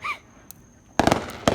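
Fourth of July fireworks going off with sharp bursts of cracks and pops, a quick cluster of bangs followed by another, fairly distant, after a faint whistle and quiet.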